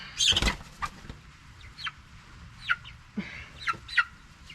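Meat chickens on a grassy homestead cluck in short, scattered bursts, one louder call at the start and then softer intermittent clucks, with a faint flutter.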